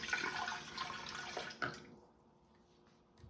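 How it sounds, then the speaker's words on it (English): Water splashes and pours steadily for a moment while making a kale citrus smoothie, then stops abruptly, leaving near silence with a faint drip. "I'm gonna put the water in."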